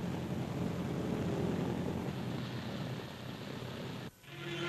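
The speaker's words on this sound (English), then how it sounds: "The first plane lands on the new strip" A propeller plane's engine drones loudly and steadily close by as it lands on a new airstrip in December 1944 wartime footage, then cuts off abruptly near the end.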